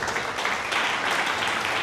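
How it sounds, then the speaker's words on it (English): An audience claps at a KCA University performing arts event, a dense, steady wash of applause filling the whole moment without pause. "Can you guys clap for yourselves?"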